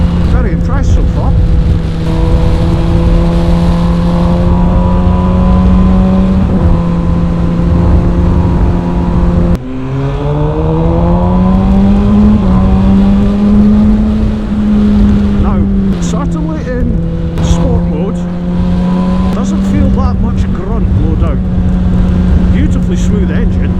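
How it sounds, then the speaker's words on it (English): A 2020 MV Agusta Brutale 1000 RR motorcycle engine drones loudly and steadily while riding, its pitch rising and falling with changes in throttle and gears. Heavy wind rush runs beneath it, and a rider talks over it. "Smooth engine, it's got a lovely note to it."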